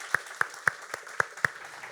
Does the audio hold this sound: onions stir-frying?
no